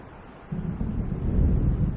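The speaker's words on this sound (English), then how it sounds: "The storm is almost here." Low rumbling thunder of an approaching storm in the video game Alan Wake, a deep swelling roll that grows louder over two seconds with wind-like noise.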